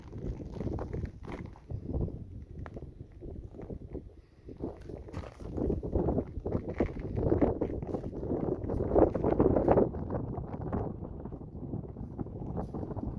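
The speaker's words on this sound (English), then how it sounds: "Pardon the wind." Wind buffets the microphone on a hike through a lava cast forest, a steady rumbling roar of low gusts that swells and eases throughout, with faint crunching steps underneath.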